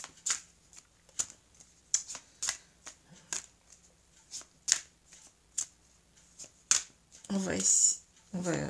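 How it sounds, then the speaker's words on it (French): Oracle cards shuffled by hand in a string of short, crisp riffling bursts spaced roughly every half second, ending in a longer, denser shuffle, close and soft, with a voice talking at times. "je vais mélanger les cartes"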